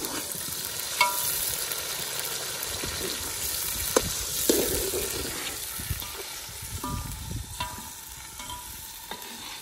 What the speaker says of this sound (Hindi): ये प्याज और ये ब्राउन हो गए हैं, अभी हम टमाटर डाल रहे हैं।